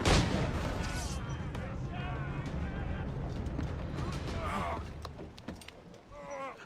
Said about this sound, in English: My mortars are too powerful.